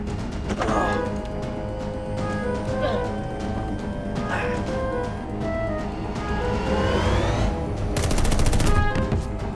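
Point-and-shoot gunfire in a Westworld-themed music competition soundtrack: bursts of shots under a dense, loud orchestral score, with a voice speaking over the mix.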